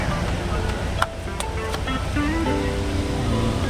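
Steady, full roar of a waterfall in Kodaikanal pouring down nearby, unbroken throughout, with a few faint sharp clicks and distant voices buried in it.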